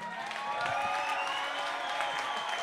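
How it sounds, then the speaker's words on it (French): An audience claps at a cultural event on Haiti in images and words at the Maison Folie in Mons, a steady, full wash of applause sustained for the whole stretch. "vous pouvez aussi vous applaudir vous-même dans le public"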